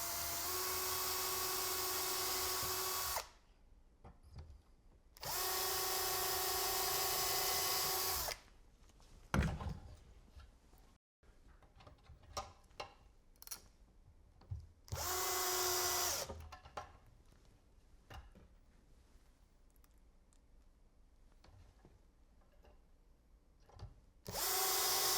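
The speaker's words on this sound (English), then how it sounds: "I can drill the pilot holes for my pull" A power drill boring pilot holes into a wooden cabinet drawer front for a pull, in four loud, steady whirring bursts of a few seconds each, separated by quieter handling clicks and knocks.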